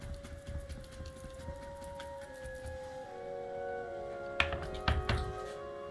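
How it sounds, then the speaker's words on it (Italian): A knife chops finely through ingredients for an Italian dish on a board, several quick close taps bunched near the end, with quieter kitchen ambience and a faint tonal hum beforehand. "gli diamo una tritata al volo"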